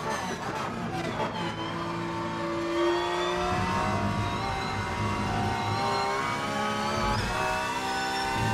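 Porsche 911 GT3 R race car in the Rennsport racing game at Monza, its engine revving loudly and steadily throughout with shifting pitch as it accelerates, no voices.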